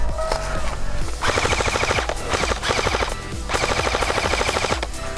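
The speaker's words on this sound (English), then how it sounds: "People, Preston's being shot" Rapid automatic gunfire in a battle royale video game comes in loud, repeated bursts of closely spaced shots, several volleys in a row with brief gaps between them.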